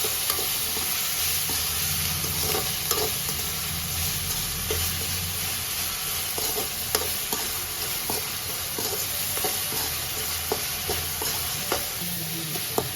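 Tomato masala for a dry fish curry fries in a pan, giving a loud steady sizzle and hiss with repeated scraping stirs and soft clicks throughout, and no voices.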